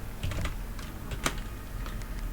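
Keys clatter on a computer keyboard in short scattered bursts, close and fairly quiet over a steady background hum, with no voices.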